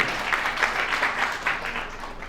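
A crowd claps at a Jain religious gathering in Jaipur, a short burst of dense, steady applause from a large audience under a pandal, fairly loud and without talk.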